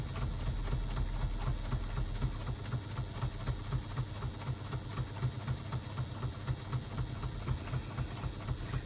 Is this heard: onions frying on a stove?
no